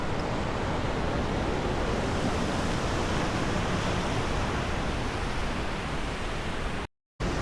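A continuous roar of high surf washes steadily without pause at Watu Bolong Beach near Yogyakarta, a broad hiss of ocean waves with no voices, ending in a brief silence.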